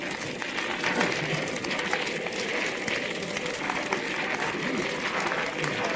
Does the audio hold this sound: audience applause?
yes